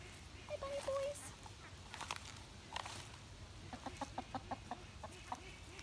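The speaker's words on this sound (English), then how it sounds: "Did you find a chicken?" Backyard chickens clucking among ducks and rabbits, a series of soft repeated clucks with a faint tonal call, moderately distant and quiet, over low background noise.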